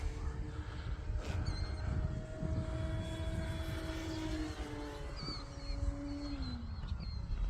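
An E-flite Commander RC airplane flies at a distance, its faint electric motor whine gliding up and down in pitch as it passes overhead, with no talk.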